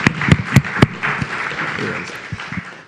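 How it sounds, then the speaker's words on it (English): A conference audience claps, beginning with a few sharp separate claps that build into a short burst of steady applause before fading out, with voices mixed in. "give yourselves a round of applause right now"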